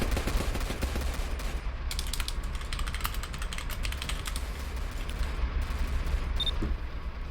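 Rapid gunfire from a van in the Roblox video game, a dense crackle of shots that runs continuously at a steady moderate level through the whole stretch, with no talk over it.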